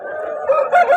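A rooster at a busy weekly poultry market near Guntur crows close and loud in one drawn-out call that rises toward the end, with no one talking over it.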